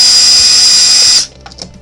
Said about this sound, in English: I brought the old drill, because quite frankly, I don't want to get carpal tunnel